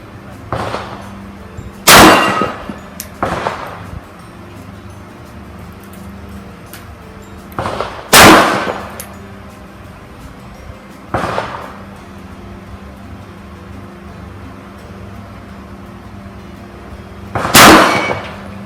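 A CZ P-10S pistol fires slow, spaced shots at steel targets outdoors, about six loud, sharp cracks with metallic rings over a quiet background.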